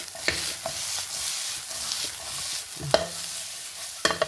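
Spiced brinjal palya is stirred in a pan. A spoon scrapes and clacks in scattered strokes over a soft, continuous sizzle, with a few sharper knocks near the end.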